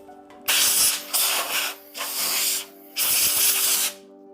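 Compressed air blows dust out of a burl and resin shaving brush handle in several loud hissing bursts of about half a second to a second each, separated by short pauses, over a faint steady hum.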